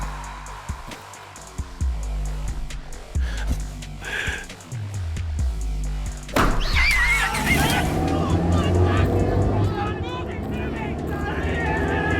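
A car engine revs and roars in a horror video game, rising loudly midway with skidding tones, layered over game music and ambient effects while people talk throughout.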